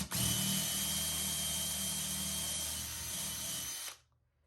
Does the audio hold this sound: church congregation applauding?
no